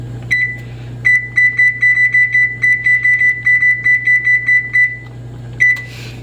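Button presses on a kitchen cooking timer set it to 18 minutes, each press giving a short, loud electronic beep in a quick, steady series. A lone beep and a soft rustle follow after a brief gap, over a low steady hum, with no talk.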